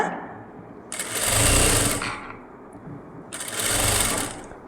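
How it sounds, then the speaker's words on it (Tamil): Two loud, steady bursts of a sewing machine stitching a lining blouse for a Poonam saree, each running about a second or more, with a short quiet gap between them and no talk. "இப்படியே வச்சு இழுத்து பிடிக்காமல் தையல் கொண்டுட்டு வாங்க"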